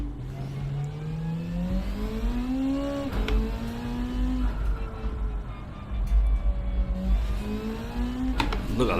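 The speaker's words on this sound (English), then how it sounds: "The car just took away from me and accelerated so quick" A powerful car in Gran Turismo 7 accelerating hard, engine note climbing through repeated upshifts in a sustained, loud roar with brief dips at each gear change, under faint talk.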